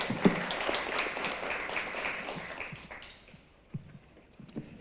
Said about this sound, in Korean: 박수로 한번 맞이하실까요?